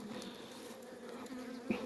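Low, continuous buzzing of many honeybees close by in a hive, a steady droning hum with an occasional louder bee passing near.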